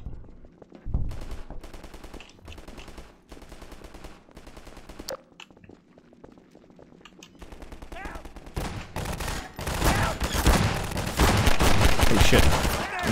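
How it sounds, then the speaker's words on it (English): Shotgun blasts and other gunfire in the video game Half-Life 2, a run of sharp broadband bursts that thicken into dense, loud firing toward the end, with no speech. "Maybe I shouldn't charge the shotgun."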